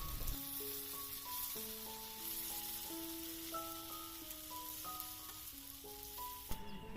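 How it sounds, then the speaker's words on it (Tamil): Potatoes frying in a pan, giving a steady, faint hissing sizzle under a soft background melody of sustained tones, with a brief clatter near the end. "ஒரு பக்கம் ஃப்ரை ஆனதும் இன்னொரு பக்கம் திருப்பி ஃப்ரை பண்ணி எடுத்துக்கலாம்."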